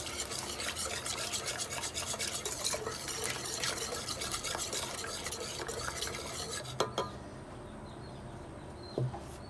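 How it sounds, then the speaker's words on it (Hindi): Kadhi mixture with ginger and garlic being whisked in a bowl, a rapid continuous rhythmic scraping and clinking of a whisk against the bowl, close and steady, ending with a couple of brief knocks. "इसको हम अच्छी तरह फेंट लेते हैं।"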